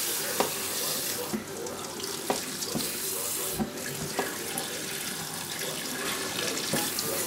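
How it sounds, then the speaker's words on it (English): Tap water runs steadily into a sink while pickled northern pike and a jug are rinsed in fresh water, a continuous close splashing with small knocks and clinks of handling scattered throughout. "We're gonna rinse the fish real good with fresh water and rinse the jug out."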